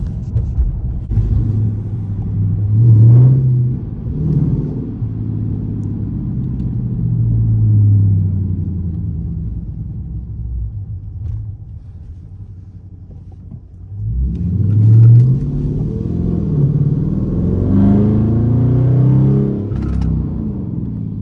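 Dodge Charger RT V8 idling in eco mode, a loud, steady low rumble that swells twice as the engine is lightly revved, close by with no one talking.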